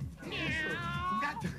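A person imitates a cat with a drawn-out, wavering meow, one clear nasal call lasting over a second, heard close and alone.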